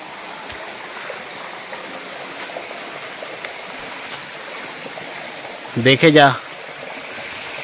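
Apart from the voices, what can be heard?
stream water flowing down from Dharagiri Waterfalls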